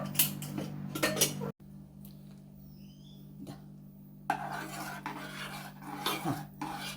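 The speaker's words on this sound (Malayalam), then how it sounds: "ഇനി നമുക്കൊന്ന് കുക്കർ തുറന്നു നോക്കാം" A pressure cooker holding cooked dal is opened with metallic clanks and scraping of the lid, then a brief quiet stretch before more rattling and rubbing of metal; no one speaks.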